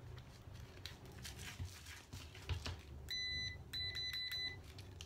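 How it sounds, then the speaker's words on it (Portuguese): FieldPiece SC640 clamp meter sounds its continuity tone, a series of short sharp electronic beeps in two quick bursts, close and clear over faint handling noise. "Acende o verde e começa a fazer o bip, significa que tem continuidade."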